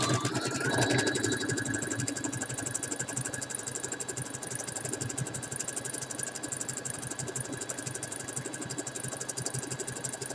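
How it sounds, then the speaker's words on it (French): Sewing machine stitching jersey fabric for mittens, a steady fast mechanical whirring hum with rapid needle ticking, running continuously and close without pause. "Je vais coudre sur tous mes tracés en faisant des points d'arrêt"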